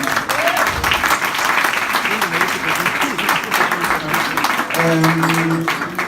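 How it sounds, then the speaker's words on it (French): Audience applause at a fashion-sale event speech, dense and steady clapping with voices and brief tonal sounds mixed in, loud throughout. "et Élodie du service communication de Aide, qu'on applaudit, s'il vous plaît."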